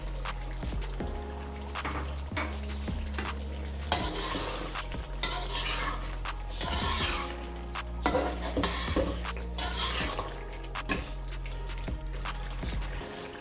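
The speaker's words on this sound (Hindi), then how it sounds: "अब हमने इसकी हाई फ्लेम पे अच्छे तरीके से भुनाई कर लेनी है" Chicken karahi with coconut powder, chicken powder and coriander is stir-fried on high flame, with repeated spatula scrapes and clatter against the wok over a constant low sizzle and hum.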